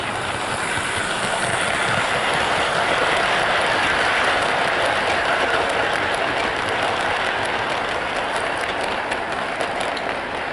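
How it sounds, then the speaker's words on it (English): A model Heljan Metropolitan Bo-Bo electric locomotive pulls six coaches along the track with a constant close, even rushing rumble and whir of wheels and motor, no pause throughout. "We have 6 coaches behind the loco, and as you can see here, she can handle these with ease."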